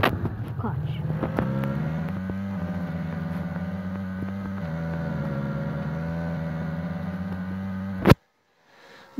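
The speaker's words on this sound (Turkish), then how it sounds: "Burada araba bulduğumuz çok iyi oldu." A car engine drones steadily in a video game, shifting pitch as it accelerates, then cuts off abruptly near the end.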